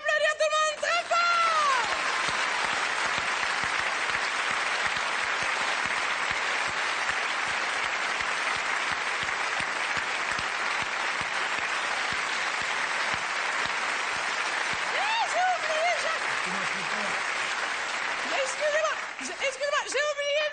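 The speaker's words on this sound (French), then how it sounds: "Je vous demande d'applaudir tout le monde très fort." Theatre audience at the Marigny applauding after a stage performance: dense, sustained clapping fills the hall for about twenty seconds, with brief cheers and voices rising near the end.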